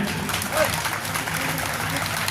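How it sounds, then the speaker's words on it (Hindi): An audience at an Arya Samaj gathering claps in a continuous, fairly loud burst of applause, with faint voices mixed in underneath. "ताली बजाएं।"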